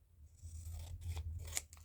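Scissors cutting paper for a collage, a few quiet close snips and slicing strokes with a sharper cut near the end, faint and alone.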